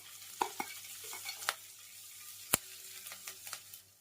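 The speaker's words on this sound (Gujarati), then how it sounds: "અહીં જીરું પણ ફૂટી જશે અને લવિંગ પણ ફૂલી જશે." Cumin seeds and cloves crackle in hot ghee with scattered sharp pops over a soft sizzle, and a spoon stirs them now and then, close and fairly quiet.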